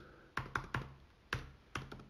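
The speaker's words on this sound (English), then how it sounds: "we're typing source" Six crisp keystrokes on a computer keyboard come in a quick irregular burst, close and quiet, with no talking.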